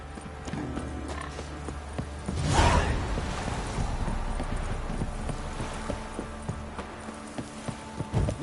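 Horse hooves clip-clop in The Witcher 3 video game, a fairly quiet rhythmic series of hoofbeats with a brief louder whoosh and a whinny-like sound partway through.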